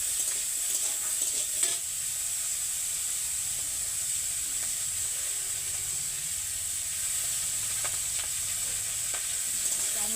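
Tengra fish coated in salt and turmeric sizzles steadily in hot oil with five-spice while being stirred, a continuous close frying hiss with occasional soft clicks of the spatula and no talking.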